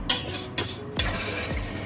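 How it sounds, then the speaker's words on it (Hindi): Spoon stirring spiced meat in a pot for yakhni rice, three scraping strokes against the metal over a soft sizzle, close and clear with no voices. "इसको अच्छे तरीके से मिक्स करते हैं"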